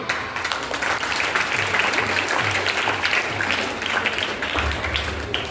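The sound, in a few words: audience clapping for a student at an elocution competition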